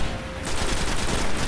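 Enemy gunfire on a Destiny battlefield during the Devil's Lair strike: a dense, loud stream of rapid automatic shots that starts after a brief lull and keeps rattling without pause.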